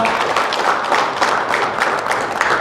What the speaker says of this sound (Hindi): हम एक बार तालियां बजाकर उसका स्वागत करते हैं